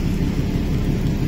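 Thunder rumbles steadily through a storm on the deck of a ferry travelling from Manila to Coron, a low continuous roar with rain-like hiss and no voices.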